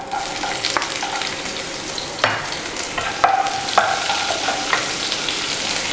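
Dried red chillies and shallots fry in hot oil in a pan for coconut chutney, giving a steady close sizzle broken by sharp scraping and stirring clacks from a utensil, with no talking.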